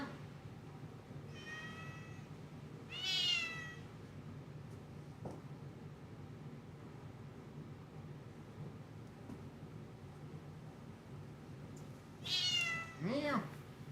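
A cat meows in several drawn-out, rising calls, one pair early and another near the end, over a steady low room hum.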